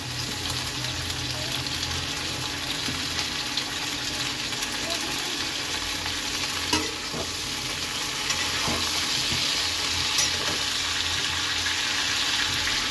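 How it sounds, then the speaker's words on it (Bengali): Cauliflower stirred in hot oil with onions in a pan, a constant hiss of frying with a few scraping stirs and clicks, fairly close, with faint background noise. "কপিটা একটু নাড়াচাড়া করে নেবো তেল পেঁয়াজের মধ্যে"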